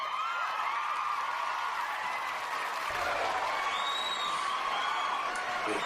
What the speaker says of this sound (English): First, let me give a round of applause for my girl Jada.